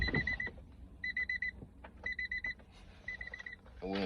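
An alarm sounds in bursts of rapid electronic beeps, repeating about once a second. It is moderately loud over a murky background of low rumble and muffled noise.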